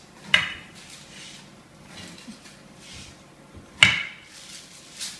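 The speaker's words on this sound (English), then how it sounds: "we just get a knife, it's nice and washed, and we just reinforce the indent" Two sharp knife taps against a cutting board, a few seconds apart, with faint scraping between them.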